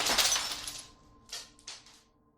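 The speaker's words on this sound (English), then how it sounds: "this thing shatters into a million pieces on the ground" A porcelain object thrown onto the ground smashes with a loud close crash, then a few scattered fragments tinkle and skitter afterward before the sound fades out.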